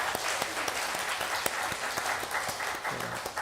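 A church congregation at a Sunday service applauds to welcome newcomers seated upstairs, a dense burst of many hands clapping steadily for a few seconds with a faint voice in the background.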